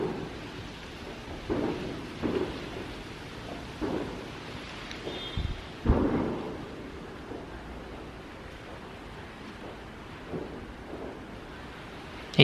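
Fireworks explode on Bonfire Night in drizzly weather as a series of irregular, muffled booms, mostly distant, with one heavier, closer burst midway and quieter thumps trailing off.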